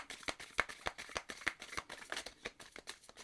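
Tarot cards being shuffled by hand, giving a quick run of soft papery flicks and riffles at a steady, uneven rhythm, close and fairly quiet, with no talking.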